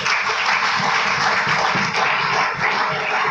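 An audience applauds loudly and steadily, a dense wash of clapping from a crowd at a talk, sustained without a break.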